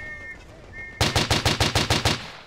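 Rapid gunfire in the Verdun video game, about a dozen sharp shots in an even, fast rhythm after a second of quiet game ambience, loud and close.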